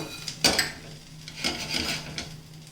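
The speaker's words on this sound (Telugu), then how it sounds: "కొత్తిమీర వేగే లోపల దినుసులు వేపించుకుందామండి. ఇగో ధనియాలు వేసాను, మెంతులు వేసాను," Coriander seeds and fenugreek seeds dry-roasting in a pan, heard as a few metallic clatters and scrapes of a spoon against the pan over a faint background hiss, close by and fairly quiet.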